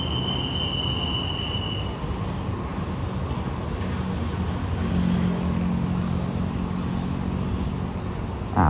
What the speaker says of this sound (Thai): รถจักรเป็นฮิตาชินะครับผม